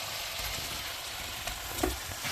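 Radish pieces frying in a pan of spiced masala while a rui fish curry is cooked, giving a steady, soft sizzle with a faint scrape or two of stirring near the end, no voices.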